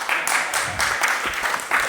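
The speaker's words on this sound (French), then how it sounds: "je vous demande d'accueillir et d'applaudir Sandra" A church congregation at a Sunday service claps in welcome, a dense burst of applause that swells and dips in waves across the room, close and fairly loud.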